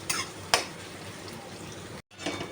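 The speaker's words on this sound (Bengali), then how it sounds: "আলু নারকেলটা ভাজা হয়ে গেছে" Potatoes and coconut with salt and turmeric fry in a pan, giving a steady low sizzle with one sharp clank early on and a brief break of silence near the end.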